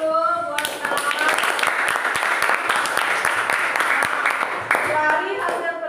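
A classroom of students claps for a presenting classmate, with a brisk, dense burst of applause that runs steadily for several seconds, and voices heard faintly at the start and end.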